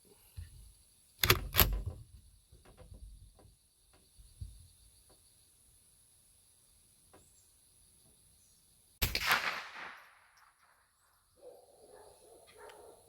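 A Ruger 10/22 Takedown rifle fitted with a SilencerCo Spectre 22 suppressor fires regular ammunition outdoors: a short, muffled double crack near the start, followed by quiet background and a later similar report.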